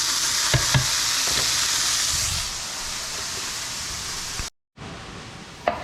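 Steady, loud sizzling and crackling of chickpeas frying in a hot pan, with a few clanks and a brief cut to silence near the end.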